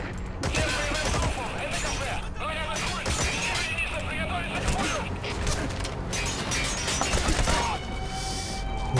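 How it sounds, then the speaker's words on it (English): Gunfire in the video game Metal Gear Solid V: The Phantom Pain, rapid bursts and mechanical clatter mixed with game noise, heard under players talking throughout. "Who's shooting?"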